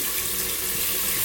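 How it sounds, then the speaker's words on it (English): Water pours steadily into a pressure cooker holding a lamb and potato curry, a close, continuous splashing hiss with no talking. "What I want to do now is add some water."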